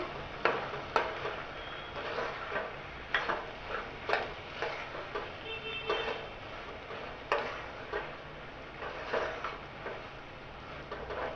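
Mixed vegetables for a Konkan-style dish sauté in a pan, with a soft steady sizzle broken by repeated sharp spatula taps and scrapes against the metal, close and moderately loud, with no talking.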